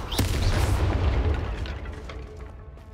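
A Confringo fire spell bursting in Hogwarts Legacy on PS5, a sharp crack followed by a loud booming blast that rumbles and slowly fades.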